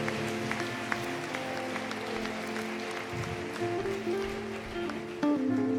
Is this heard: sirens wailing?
no